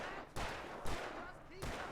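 Revolver fire in the video game Alan Wake Remastered: three sharp, reverberant gunshots spaced roughly half a second apart, fairly close, with a faint voice mixed in.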